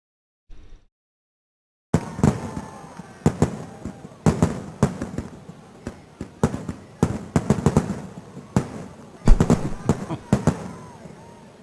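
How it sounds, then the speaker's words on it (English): Fireworks sound effect from Compton's Interactive Encyclopedia on Sega CD, a long series of sharp crackling bursts and pops in irregular rhythm, loud and close, after a brief blip and a pause of silence. "How about some fireworks?"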